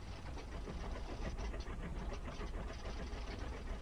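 Bomber engines idling and running in IL-2 1946, a low, steady, faint rumble with an even, throbbing texture throughout.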